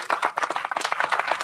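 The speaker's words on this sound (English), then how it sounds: "Can we have a round of applause for 3 federal district judges?" A brief patter of applause from a conference audience honoring three federal district judges, fairly close, with uneven overlapping claps lasting about a second and a half.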